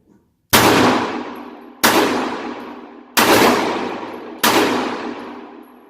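Ruger LCP2 pistol fired on a range, four sharp, loud shots spaced about 1.3 seconds apart, each with a ringing decay, nearby and with no talk.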